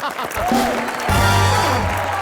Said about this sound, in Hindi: राजा के लिए जोरदार तालियां।